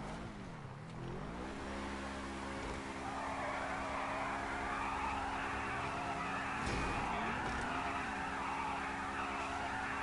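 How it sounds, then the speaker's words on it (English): Car burnout in GTA Online, a steady high engine drone with harmonic whine and a broad hiss of tire squeal running loud and continuous throughout, with no talking. "Not a great burnout"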